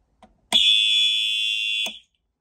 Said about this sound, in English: that is one loud alarm right there